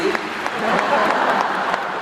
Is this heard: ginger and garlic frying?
no